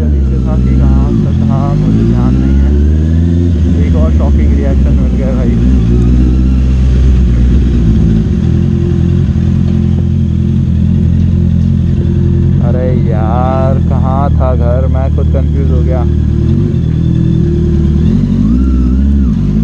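A Honda CBR650R motorcycle engine runs steadily at idle, loud and close, while people talk over it throughout.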